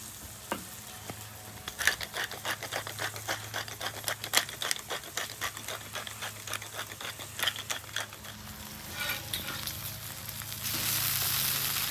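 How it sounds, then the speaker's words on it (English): Bacon fries on a flat-top griddle, rendering its fat in a steady crackling sizzle with dense, irregular pops throughout, growing a little louder toward the end. "The only thing I'm looking to do is render out all the fat, make some crispy bacon"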